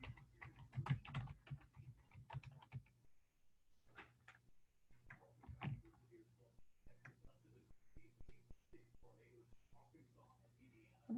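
Fingers tap a computer keyboard, entering a username and password in quick irregular bursts of soft clicks with short pauses, faint and close, over a low steady hum.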